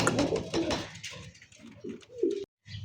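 Domestic pigeons, a German Beauty hen among them, coo in a series of soft, low, throaty calls, close by and moderately loud, with a brief silence near the end.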